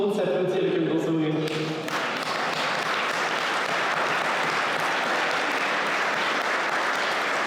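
At a recognition gala in Lanoraie, a crowd breaks into sustained, dense applause that swells after a brief moment of a voice speaking and then carries on evenly to the end.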